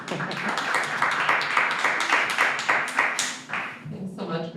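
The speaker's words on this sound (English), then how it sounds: "a round of applause, I guess" Audience applause at an in-person open science and mentoring talk, a few seconds of steady, fairly close clapping that thins out near the end.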